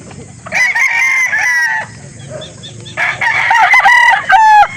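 A three-year-old McLean line gamefowl rooster at a Philippine game farm crows loudly and close several times in a row, with clucking and farm background between calls.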